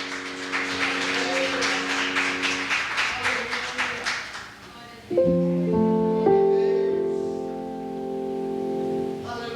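Congregation at a Portuguese-language church service clapping in steady rhythm along with music for about five seconds, after which the clapping stops and sustained instrumental tones carry on alone.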